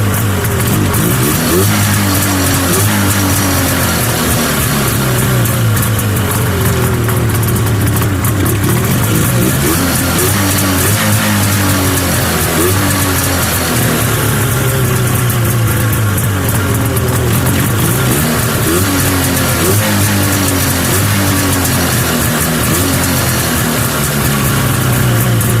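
A cheap, once-seized Arctic Cat Jag 340cc snowmobile engine runs steadily and loudly throughout, a continuous two-stroke drone with rhythmic rising and falling revs and no talk.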